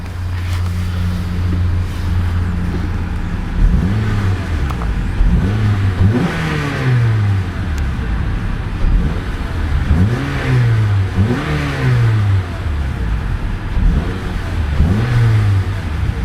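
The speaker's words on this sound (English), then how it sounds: "let's see about a couple of revs of that little inline 4-cylinder engine" A small inline four-cylinder engine in a 2012 Acura TSX Special Edition revs several times, each rev rising sharply in pitch then falling back, over a steady idle.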